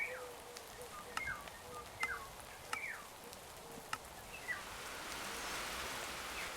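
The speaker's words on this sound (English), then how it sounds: "this is still way too loud on the rain" Rain in a Minecraft modpack falls as a constant hiss that swells louder toward the end, with a few short chirping calls and sharp clicks over it.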